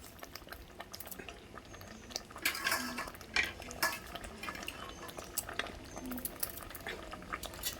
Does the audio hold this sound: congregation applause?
no